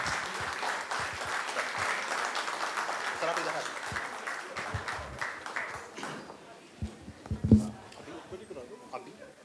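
A standing audience claps in dense, sustained applause in honour of Rakesh Bakshi. It fades to scattered claps and rustling toward the end.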